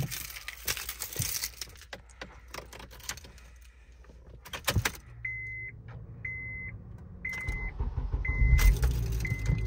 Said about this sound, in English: All right, so now the car is running.